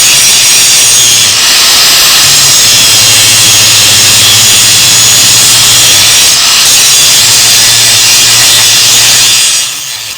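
Sustained, loud abrasive grinding on welded bolts of a roll-around seat, a steady metal-on-metal whine with a faint hum underneath, running almost unbroken for about ten seconds before easing off at the end.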